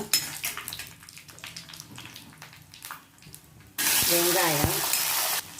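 Mustard seeds, fenugreek, cumin, a green chilli and a dried chilli go into hot sesame oil for a brinjal gravy, with crackling stirs followed by a sudden loud, dense sizzle close up.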